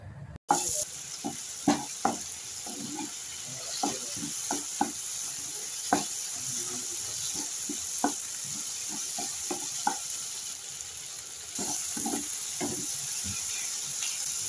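Onion, tomato and salt fry together in a pan for a Bengali mutton liver dish, a soft steady sizzle punctuated by repeated sharp spatula taps and scrapes.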